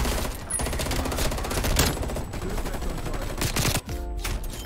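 Rapid bursts of FFAR 1 assault rifle fire in Call of Duty: Black Ops Cold War, loud, close and nearly continuous, with a short break near the end.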